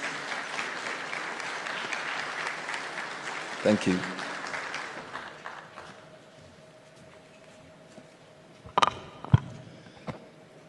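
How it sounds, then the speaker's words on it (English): Audience applause fills a summit hall welcoming the WHO director-general at a health sovereignty summit in Accra, a steady broad clapping for about five seconds that fades away before someone quietly says thanks. "Please welcome Dr. Ghebreyesus with a resounding round of applause."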